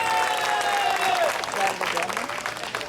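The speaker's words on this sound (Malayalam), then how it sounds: "അതിനെല്ലാവരും ഒരു കയ്യടി കൊടുത്തേ" Applause from an audience at a program in a Syro-Malabar cathedral: continuous clapping that fills the clip, loud and near, with a speaking voice running over it.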